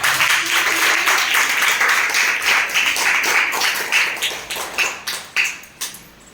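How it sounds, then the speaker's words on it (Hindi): Students seated in a class 6 to 8 mathematics session clap loudly in sustained applause, which thins into a few scattered claps toward the end. "जोरदार तालियों के साथ"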